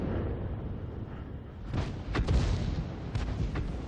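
A tank's main gun fires in the World of Tanks video game: a couple of loud, booming blasts with rumbling tails rise over a low background roar.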